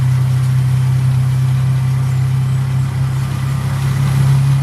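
A car engine idles steadily on a flooded road, a loud, constant low hum with rushing water noise layered over it and no talking.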